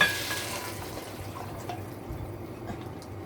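Four cups of vegetable broth pour into a cooking pot for Jamaican fish tea, a soft steady liquid trickle and splash, close and fairly quiet, with a brief louder start.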